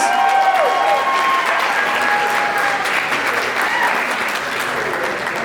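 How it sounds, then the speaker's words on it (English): Sustained applause fills a college talent show after a performance, a thick, continuous crowd clapping at even loudness throughout, with scattered whoops and tonal cries rising over it. "give him another round of applause"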